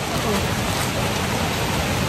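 Irrigation water gushing strongly near rice paddies, a loud, dense, continuous rushing roar with no breaks, heard close by.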